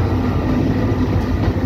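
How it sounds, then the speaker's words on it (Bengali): A commuter train rolls through Chittagong Cantonment past green fields, its steady rumbling clatter loud and close, holding an even level for the whole stretch. "মাঝখান দিয়ে ট্রেন যাচ্ছে"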